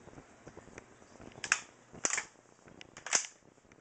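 Flip-cock toy rifle styled on a lever-action Terminator-type gun being cocked: three sharp, close plastic clacks about half a second to a second apart, with faint handling rattles between them and no talking.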